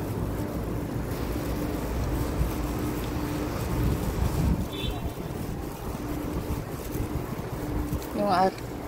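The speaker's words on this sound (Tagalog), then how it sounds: "Mahangin na malamig." Steady wind blows outdoors, giving a continuous rushing noise across the microphone, with a few brief faint chirping sounds late on.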